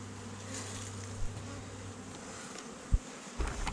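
Honeybees buzz steadily around an opened hive while a bee escape is being installed, a low continuous drone close by with a few soft knocks and bumps near the end; no one speaks.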